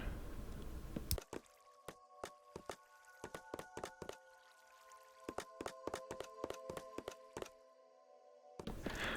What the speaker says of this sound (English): Now we're going to place trapdoors down all of these little gaps above our water.